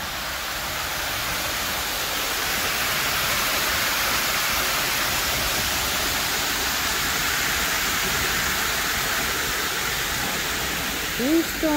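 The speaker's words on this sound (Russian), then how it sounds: "Здесь фонтанчик шумит." Steady broadband rush of a small fountain splashing at night in downtown Vancouver fills the whole recording, loud and continuous, with a brief faint voice near the end.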